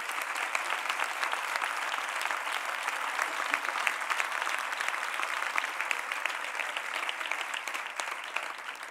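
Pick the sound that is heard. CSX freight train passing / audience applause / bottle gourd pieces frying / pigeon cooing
audience applause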